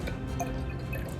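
Hydrated Lalvin yeast is poured into Northern Spy apple juice for hard cider, giving a brief, close, soft dripping splash of liquid.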